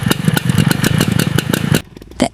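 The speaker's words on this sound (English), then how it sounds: "The old moped finally sprang to life." An old Yamaha Cub50 moped engine idles close by with a steady, rapid putter and light mechanical clatter, then cuts out abruptly near the end, leaving near-silence before a brief final burst.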